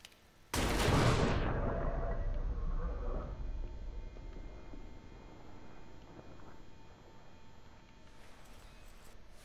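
A single loud gunshot fired in a video game, an abrupt close blast followed by a long echoing rumble that slowly fades, with faint clicks near the end.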